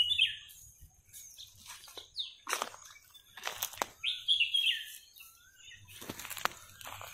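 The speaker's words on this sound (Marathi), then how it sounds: "पक्ष्यांचे आवाज येतात." Birds in a jungle give scattered high chirps and calls, with faint rustling and wing-flutter bursts between them, all fairly quiet in an otherwise still setting.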